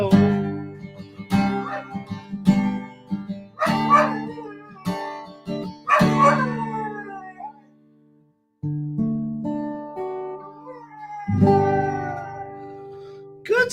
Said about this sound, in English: Good singing, Champ the dog